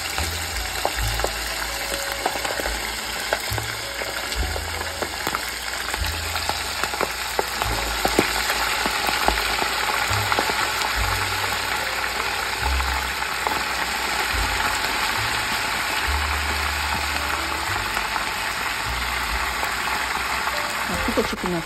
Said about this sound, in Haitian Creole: Quand l'huile est bien chaude, nous mettons le chicken là-dedans.